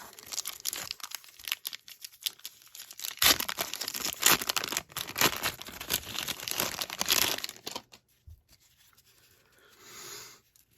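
1989 Score baseball card packs are ripped open, with crisp crinkling and tearing wrapper foil in close, busy bursts, a quieter pause, then loud sustained crumpling before it fades to faint rustles.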